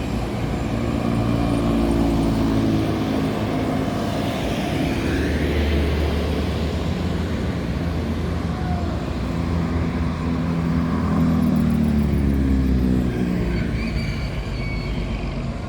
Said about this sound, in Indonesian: Dan diikuti oleh bus yang ke-6 dari perantauan Jakarta dan sekitarnya, NPM Firkansa 43 Walang Kekek